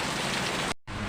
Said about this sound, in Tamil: அழகான அற்புதமான மழை பெய்யுது.